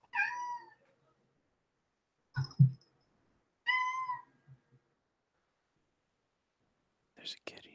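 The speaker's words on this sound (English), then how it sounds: "There's a kitty in the stream." A cat meows a few times during a livestreamed podcast, with short, fairly quiet calls separated by silence and a soft thump or rustle between them.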